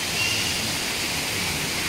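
A waterfall at the Xcaret nature park in Mexico pours steadily, a dense, even broadband rush of falling water that holds constant and fairly loud throughout, with no voices over it.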